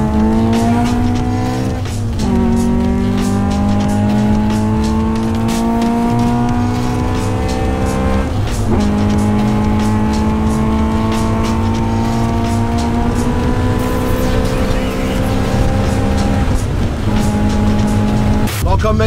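Honda CRX with a B16 VTEC engine revving hard on back roads, loud and close, with rising harmonic sweeps that drop at each gear change, repeated several times throughout.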